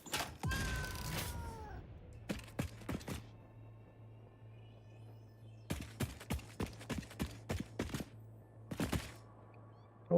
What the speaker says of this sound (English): That would be why you're hearing kitties.